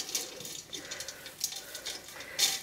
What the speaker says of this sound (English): now I am going to add water to it, distilled water of course